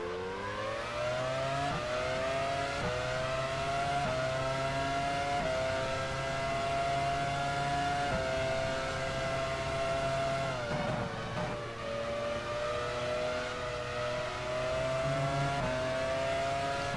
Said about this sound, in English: This car is so much quicker than last year's car.